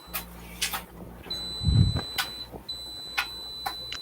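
A PVM monitor gives a thin, steady high beep when switched on, one long tone, a short break, then the tone again, faint under soft clicks and a low thump in a workshop.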